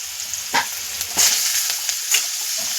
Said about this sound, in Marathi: टोमॅटो पण 1 मिनिटभर फक्त परतून घ्यायचं त्यामध्ये।